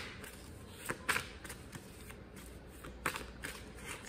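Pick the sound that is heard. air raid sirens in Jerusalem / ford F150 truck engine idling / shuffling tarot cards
shuffling tarot cards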